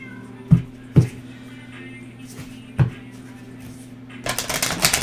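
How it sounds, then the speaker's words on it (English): A house cat meows several times indoors, with short separate cries spaced through the moment, then a rustling shuffle at the end. "oh my cat is freaking meowing like crazy right now,"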